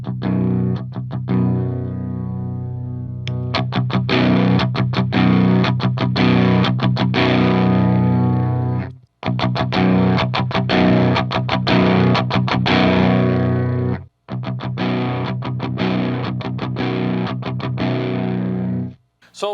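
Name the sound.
electric guitar through Devil's Triad and Dirty Tree overdrive pedals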